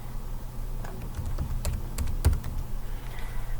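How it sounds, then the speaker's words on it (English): Someone types on a computer keyboard at close range, a short run of crisp, irregular key clicks over a faint steady hum, with one sharper keystroke midway. "I type in tennis here."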